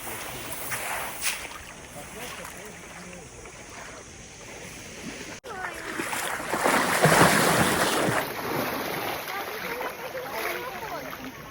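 Sea waves wash steadily onto a beach at Nerja in Andalusia, Spain, swelling louder midway, with wind and faint voices in the background.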